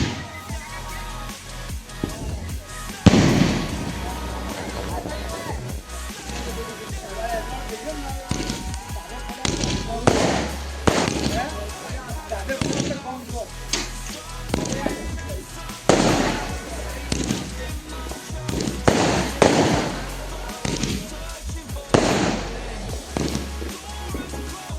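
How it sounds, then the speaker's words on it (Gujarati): Diwali firecrackers burst outside a house, sharp loud bangs and crackling volleys coming in irregular clusters, with people talking between the blasts. "તો તમે જુઓ આ ફટાકડા ફોડીએ છીએ"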